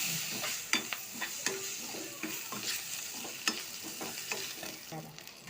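Spices are stirred into an egg biryani gravy in a hot pan: steady sizzling frying under repeated scraping strokes of a spoon, fairly quiet and close, with no voices.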